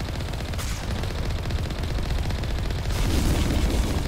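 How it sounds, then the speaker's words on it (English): Sniper and rifle fire in Mass Effect during the Virmire landing, rendered as a steady, dense rattle of shots close by, growing slightly louder near the end, with no talk over it. "Crap, now we get sniped from behind as well"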